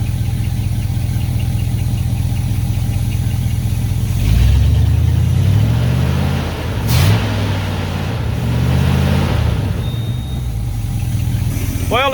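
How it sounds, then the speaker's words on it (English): Worn 1971 Dodge D100 pickup engine, abandoned for decades, idling with a loud lumpy rumble, then revved up several times in surges before settling back to idle, close and loud. "Let me rev it up."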